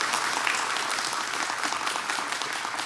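A church congregation at a Sunday worship service claps to welcome visitors, producing dense, even applause that fills the room steadily for about three seconds.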